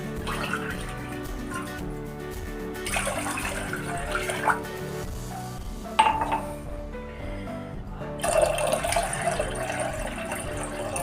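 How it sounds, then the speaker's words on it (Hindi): Two cups of water being poured into a pan on the stove for guava-leaf kadha: a steady, soft splashing pour in a kitchen, with faint clinks of the pan. "2 कप पानी डाल देती हूँ।"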